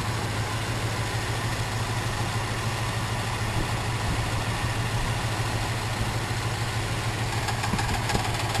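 A Plymouth rat rod engine runs steadily at idle with a low, even hum and faint rattling. Moderate level, no voices.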